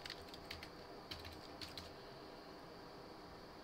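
Quick bursts of keystrokes on a computer keyboard while code is being written, close and quiet, in short clusters with pauses between them.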